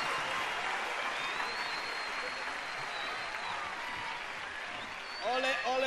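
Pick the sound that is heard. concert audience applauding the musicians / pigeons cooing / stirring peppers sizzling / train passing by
concert audience applauding the musicians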